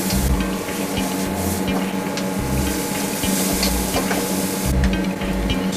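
Kung pao fried rice with scrambled egg, bean sprouts and beef is tossed hard in a wok, a steady sizzle broken by rhythmic metallic scraping and stirring strokes, loud and close with no talk.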